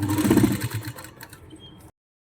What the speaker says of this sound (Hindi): इसी तरह हम इस पर सिलाई लगाते जाएंगे